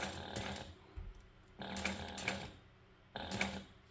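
A sewing machine stitches down the sides of a crossbody bag with thick webbing, running in three short mechanical bursts of rapid needle chatter separated by brief pauses, close and clear.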